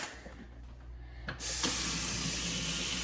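Kitchen faucet turned back on into a sink after a garbage disposal replacement, a quiet lull giving way to a steady, loud rushing hiss of running water that continues alone to the end.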